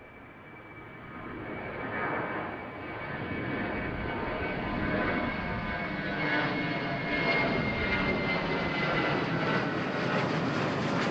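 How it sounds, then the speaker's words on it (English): Steady jet roar of an SAS Airbus A320-200 airliner on the runway at Amsterdam Schiphol, heard from a distance and building slightly in loudness over time, with a rising whine and no other sound. "lined up on the runway here, we got an SAS or SAS, Airbus A320-200"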